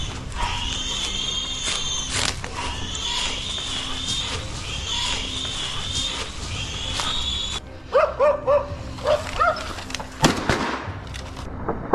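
Hunting dogs bark hard and continuously at a cornered wild boar during a hunt, many overlapping yaps up close, with a few louder sharp cracks near the end.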